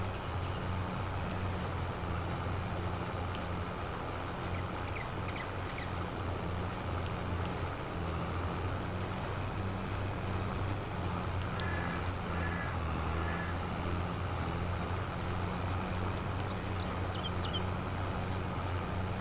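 A tractor engine in Farming Simulator 22 drones steadily as it labours up a slope, a continuous low rumble with faint higher tones above it and no talk.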